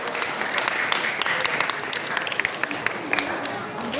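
Audience at a children's traditional games competition announcement in Kebumen applauding a third-place winner, steady dense clapping throughout with speech mixed in.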